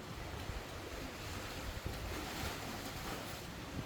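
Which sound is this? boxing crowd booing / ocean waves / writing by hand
ocean waves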